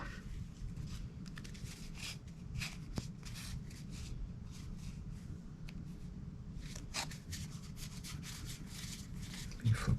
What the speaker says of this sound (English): You flip through them.